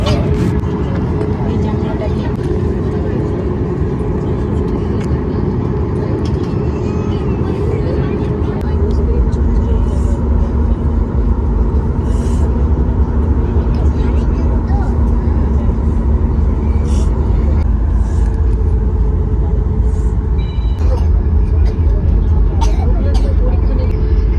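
A passenger airliner's engines rumble steadily from inside the cabin, the low drone deepening and strengthening partway through as the plane begins its takeoff roll, with a constant hum and occasional faint clicks.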